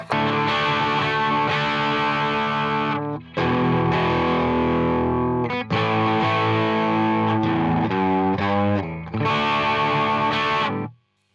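Antiquity Legends EX Explorer-style electric guitar strummed on a clean amp channel, a bright, slightly driven tone playing chords in loud bursts separated by brief pauses.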